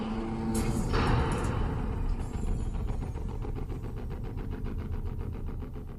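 A theme park ride's boat impact effect plays: a heavy crash with a splashy burst early on, then a rumbling, rhythmically pulsing churn that gradually settles.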